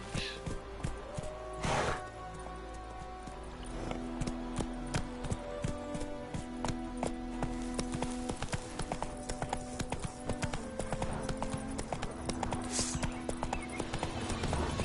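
Roach the horse from The Witcher 3 galloping in a game, a fast, steady clip-clop of hooves running close and continuous, with a brief whinny early on and some talk over it.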